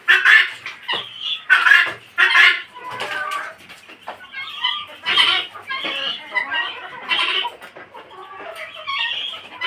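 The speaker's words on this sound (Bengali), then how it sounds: "আর এই হলো আমার মুরগি।" A broody hen sitting on eggs clucks repeatedly up close, in short irregular bursts with occasional squawky notes, alone without talk.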